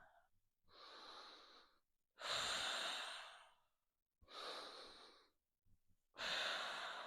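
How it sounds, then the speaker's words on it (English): Deep, deliberate breathing during a beginner Pilates exercise, with alternating long inhales and forceful exhales in a slow rhythm, four breaths close and clear with no talk. "Inhale, belly, belly, belly. Exhale, scoop it in."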